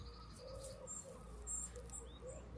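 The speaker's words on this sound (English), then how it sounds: "There's a very loud baby bird in there somewhere." A baby bird calls from somewhere nearby outdoors, giving high thin chirps in short repeated notes over steady low background noise.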